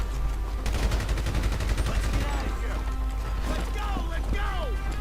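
Rapid gunfire crackles through a GTA V gunfight, a dense stream of shots and impacts that thins into scattered pops and ricochet-like whines, with someone talking excitedly over it.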